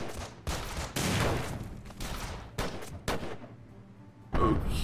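Frag grenade blast in the tactical video game Breach and Clear: several sharp, loud bursts in quick succession, with a final heavy burst near the end and a brief ringing tail between them.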